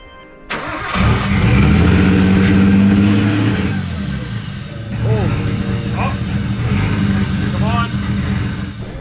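A barn-find Nissan Skyline R32 engine cranks, catches and flares up loud, then settles into a rough, uneven idle with small revs, close up.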